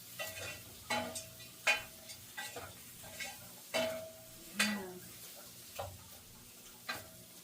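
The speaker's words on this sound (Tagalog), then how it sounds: "Pulahin muna natin kung saglit yung hipon" Shrimp cooking in a pan for labong with coconut milk, a quiet run of irregular scraping stirs and soft clinks against the pan about every second over a faint low sizzle.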